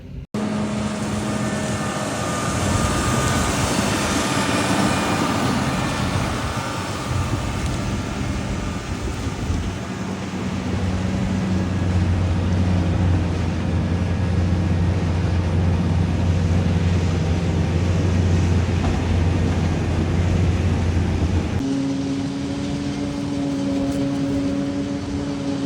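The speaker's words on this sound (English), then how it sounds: "you can hear the chopper on the other side of this corn" A continuous low mechanical roar of a forage harvester chopping corn at a distance beyond the corn field, steady droning engine hum with shifting tones.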